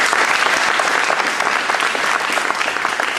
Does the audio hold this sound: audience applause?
yes